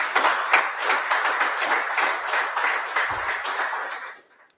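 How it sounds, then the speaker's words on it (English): Panel-discussion audience at an entrepreneurship month dialogue gives a steady round of applause, dense clapping sustained for about four seconds before quickly dying away. "let's give all entrepreneurs a round of applause"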